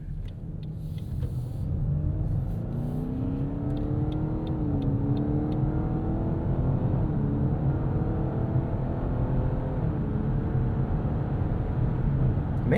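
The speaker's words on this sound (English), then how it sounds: "the tone of this V6 kind of blending into the overall road noise and other exterior noises" A 2024 Lexus LS 500h with a V6 hybrid engine hums steadily from inside the cabin while driving, its low engine tone rising and falling gently and blending into a constant rumble of road and wind noise.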